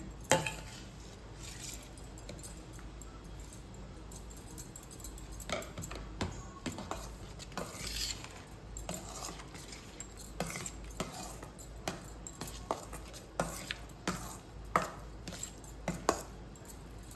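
Wet, irregular scraping and clinking of a utensil stirring a thick mixture of red rice flour and hot water in a pot, steady and close, with no talking.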